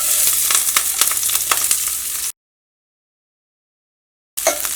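Ginger, garlic, green chilli, onion and curry leaves sizzle and crackle in hot oil, with stirring, loud and steady, cut by a stretch of silence before the frying resumes briefly.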